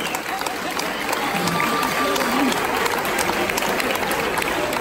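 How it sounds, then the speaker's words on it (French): Audience at a dance competition in St Saulve applauding, a sustained, dense clatter of many hands, loud and even, with crowd noise mixed in. "je pense qu'on peut les applaudir encore une fois bien fort"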